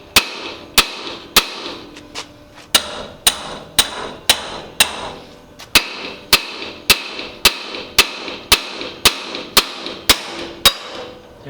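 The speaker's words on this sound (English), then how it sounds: "this is where you need the drum puller, where you can hammer on the end to vibrate it and then also tighten it" Sharp, steady hammer blows on a brake drum puller working a stuck drum off a junkyard 1939 Ford, about a dozen and a half ringing metallic strikes in an even rhythm, loud and close with no talking.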